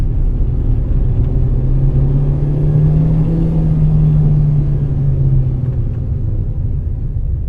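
A Proton Persona sedan's engine accelerates with a steady, loud low drone. The pitch rises gently in the middle and then eases, heard from inside the car with no talk.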